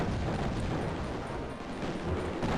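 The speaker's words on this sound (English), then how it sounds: "I do not like being hit by missiles" Explosions from missiles and weapons fire in the shoot-'em-up video game Raptor, a dense, continuous roar of loud overlapping blasts with no pauses.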